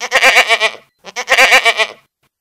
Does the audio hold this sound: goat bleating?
yes